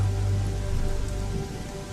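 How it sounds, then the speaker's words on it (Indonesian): Heavy rain pours steadily on a surface at night along a dark, empty road by a tea-garden roadside stall, a dense constant hiss with a low rumble and no voices. "Hujan yang tak kunjung berhenti membuat kami menunggu cukup lama dan sulit untuk pulang."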